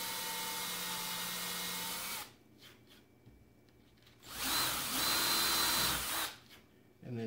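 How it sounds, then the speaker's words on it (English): A power drill whines steadily for a couple of seconds, falls quiet, then runs again in a louder, grinding burst, close by, countersinking and pre-drilling holes in wood. "we're going to take our drill and we're going to countersink and pre-drill"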